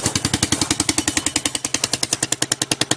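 Baja Dirt Runner 125 engine with a leaking exhaust pipe, revved under throttle: a loud, rapid, sharp popping chatter with an even rhythm, close up and with no voices.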